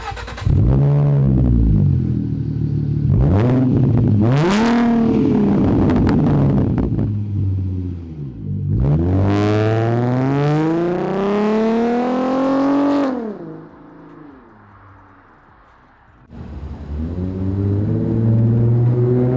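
A 2013 V6 Mustang with a 3.7-liter engine and a MagnaFlow Race Series axle-back exhaust revs up in loud, rising bursts, deep at low RPM and growing raspier higher up, then drops back to idle between the pulls.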